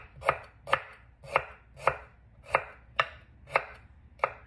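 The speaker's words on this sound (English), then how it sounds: "Roughly chop a little bit of ginger." A knife roughly chops ginger on a cutting board, eight sharp, evenly spaced strikes at a steady rhythm, close and clear with no talking.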